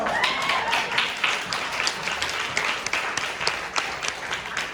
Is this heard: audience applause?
yes